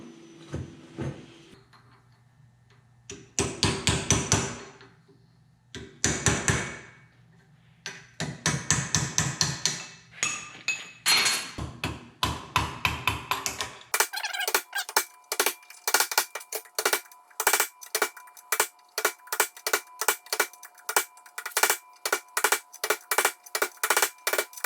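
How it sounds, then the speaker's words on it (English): Hammer knocking the seal out of a 1966 C2 Corvette rear wheel hub, struck in short irregular bursts at first, then a long run of steady, evenly spaced sharp metallic blows, close and loud, with no talking. "I can knock the seal out of here"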